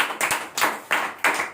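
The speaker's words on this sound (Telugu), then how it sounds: "ఒప్పుకున్న వాళ్ళు చప్పట్లు కొట్టండి." Church congregation clapping together during a sermon, several loud, close rhythmic claps in an even beat, no talking.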